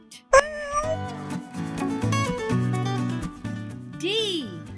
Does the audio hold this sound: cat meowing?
yes